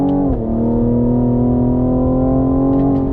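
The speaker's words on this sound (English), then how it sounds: "Downshift to third gear, second gear, on throttle, here we go." A 2021 Cadillac CT5-V sport sedan drops gears and pulls hard on the throttle, its engine holding a loud, steady droning note close to the microphone with no voices.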